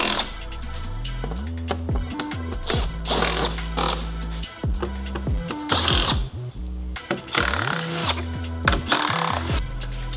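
Ratchet and power driver working Torx and 10mm bolts out of a Holden VF Commodore front bumper, with loud close mechanical whirring, clicking and ratcheting in irregular bursts and no talking.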